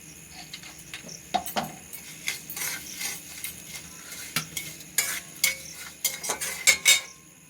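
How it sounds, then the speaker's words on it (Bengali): A spatula stirs chopped ginger, green chili and salt in a pan for a potato filling, producing irregular metallic scrapes and clinks over a faint low sizzle. "এবার এতে দিচ্ছি স্বাদ মতো লবণ, দিয়ে খুব ভালো করে নাড়িয়ে নেব।"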